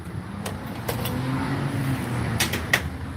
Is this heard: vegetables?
no